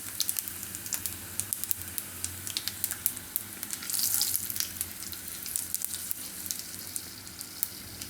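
Red chilli pieces and bay leaf sizzling in hot oil with cumin for dahi paneer, a soft crackling fry close up with scattered pops and a brief louder splutter midway.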